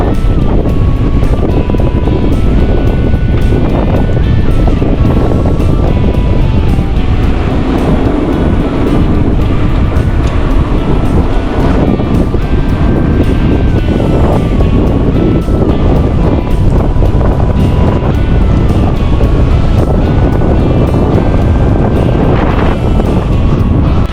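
Strong late-April wind roaring steadily for the whole stretch, buffeting the microphone with a loud, continuous rush and gusts, with some low rumble underneath.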